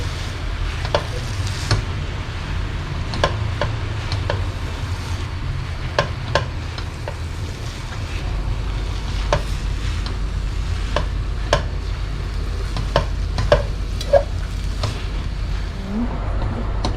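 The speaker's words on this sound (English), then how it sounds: "just need to keep stirring until the noodles soak up all the sauce" Rice vermicelli noodles with pork are stir-fried in a pan, giving a continuous close sizzle with repeated sharp scrapes and clacks of the utensil as the noodles are stirred.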